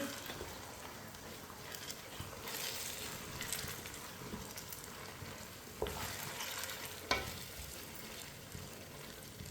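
Mint stirred into a tomato mixture for Hyderabadi chicken biryani sizzles softly in the pan, with scraping spoon strokes and a couple of sharper clanks over a quiet frying hiss.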